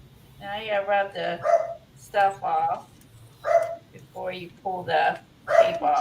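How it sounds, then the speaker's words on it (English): A dog barks in short bursts in the background while a person keeps talking over it. "Sorry about the barking."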